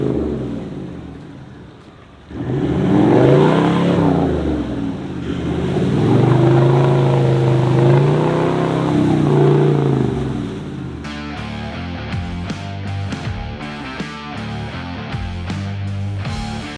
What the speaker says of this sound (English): And here's me getting stuck in a bog hole.